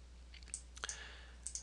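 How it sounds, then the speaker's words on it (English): Mouse clicks during a Manga Studio drawing session: two soft, close clicks about a third of a second apart, then a quieter double click near the end, over a steady low hum with no talking. "Let me see if I can right click."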